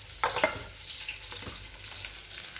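Fish sizzles steadily as it fries in a wok in a home kitchen, a constant hiss with a few sharper spits and clatters near the start.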